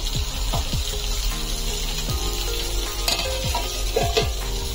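Mori fish masala frying in a pan, a dense continuous sizzle with repeated scraping and clattering strokes of a utensil against the pan; no voices.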